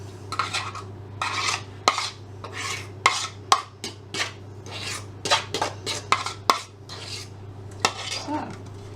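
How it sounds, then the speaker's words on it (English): Lemon drizzle cake mixture spooned into a lined loaf tin, with frequent close metallic spoon scrapes and clinks against the bowl and tin in an irregular rhythm. "And then we're just going to add in your cake mixture"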